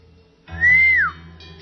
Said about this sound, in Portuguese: Assobiou cheio de alegria, tentando chamar a atenção do rapazinho.